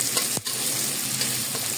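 Squid and tofu stir-frying in a pan, a steady close sizzle with a sharp scrape or clink of the utensil partway through and softer stirring movements after.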